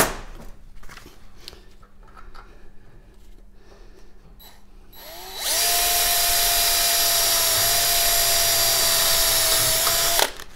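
A drill with a 3 mm high speed steel bit bores through steel trunking and into the wood behind it, starting after quiet handling noises and then running as a loud, steady, high-pitched whine for about five seconds.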